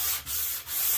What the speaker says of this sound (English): we're going to start with another 220 grit sandpaper, and it's all going to be hand sanding from here on out